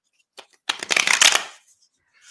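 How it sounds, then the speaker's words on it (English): A deck of handmade tarot cards shuffled by hand, a few soft flicks and then a quick riffle of snapping cards close up, trailing off into quiet. "I can shuffle a deck."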